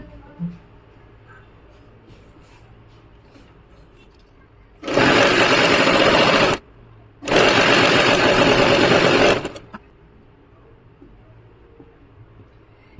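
A sewing machine stitches pintucks on a salwar in two steady, loud whirring runs of about two seconds each, separated by a brief pause, against a quiet room background.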